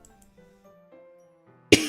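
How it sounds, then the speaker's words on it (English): A single sharp throat clearing bursts in loud and close at the very end, after a quiet stretch of faint background tones. "Sorry about that, I had to clear my throat."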